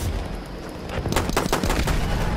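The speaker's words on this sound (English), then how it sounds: "It's a sniper." Sniper rifle gunfire in the video game Battlefield 1 bursts out after a second of low rumble, a series of sharp, loud cracks in quick succession.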